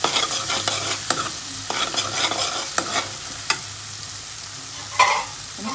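Tomato, onion and masala are stirred in a hot pan for dhaba-style chana dal: a steady low sizzle under repeated scraping strokes and small clacks of a spoon against the pan.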